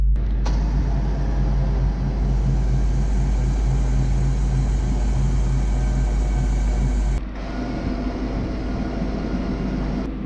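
Futura lowering car trailer raising under remote control, with a steady loud hydraulic motor drone that runs continuously and shifts slightly in tone near the end, close by and with no talk.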